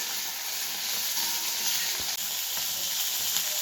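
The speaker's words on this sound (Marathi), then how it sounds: "भाजी मिक्स वेज करताना आपण जर असं भाज्या तरतरी भाजून घेतल्या ना तर त्याची टेस्ट पण चांगली येते" Mixed vegetables roast in a pan with a little salt, giving a loud, dense, continuous sizzle up close, broken once by a brief stir or knock, with no voices.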